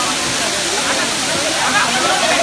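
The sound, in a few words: Bee Falls waterfall in Pachmarhi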